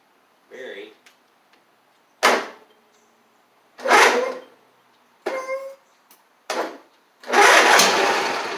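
Several short bursts of starter cranking from a John Deere D140 riding mower with a suspected bad starter or solenoid, each lasting about a second with gaps between them, close by and fairly loud.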